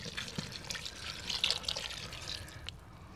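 Red wine pours and splashes into a cooking pot holding softened onions and garlic for goulash soup, a continuous bright liquid gurgle with faint sizzling, close by and with no talk.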